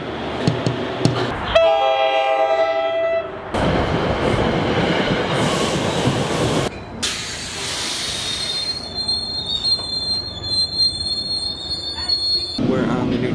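A New Jersey Transit commuter train heading into Penn Station in New York City, with loud wheel squeal and rumbling railcars, a horn-like tone and shifting roar as the train passes close by.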